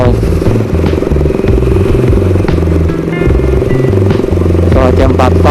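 A Yamaha SOHC four-valve motorcycle engine with rocker arms runs loud and close at a steady idle, giving a rough, slightly knocking mechanical clatter.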